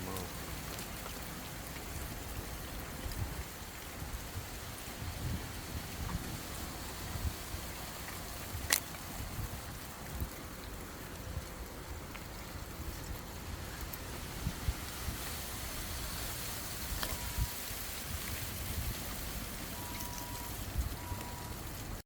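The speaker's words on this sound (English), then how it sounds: "it came up a big thunderstorm and rain" Steady heavy rain hisses without a break during a thunderstorm in Southern California, falling on an outdoor forest garden where moringa trees grow.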